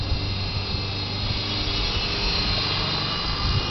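A WL Toys V913 RC helicopter fitted with a new brushless motor flies, giving a steady, continuous high whirring drone of motor and rotor that holds even throughout, close by and with no voices.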